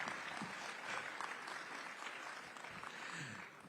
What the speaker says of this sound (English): You can be a little more generous with the applause.